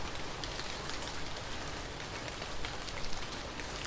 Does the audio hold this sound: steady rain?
yes